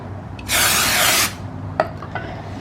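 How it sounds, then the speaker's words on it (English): Brake cleaner sprayed onto the brake rotors of a Miata, a single loud hissing spray burst of under a second, followed by a few faint rubbing and handling sounds, close by and without talk. "I'm just going to clean the rotors off a little bit with the brake cleaner"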